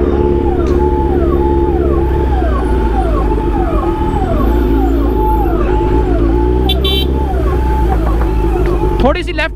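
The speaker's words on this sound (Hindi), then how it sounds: "आ रही है भाई पीछे एम्बुलेंस," Ambulance siren wailing on a highway, a steady two-tone rising and falling sweep held loud and close throughout, over constant traffic rumble with someone talking over it.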